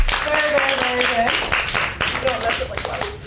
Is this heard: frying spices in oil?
no